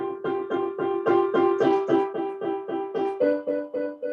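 A piano plays a simple practice tune, a steady run of about a dozen evenly spaced notes, clear and close with no voices.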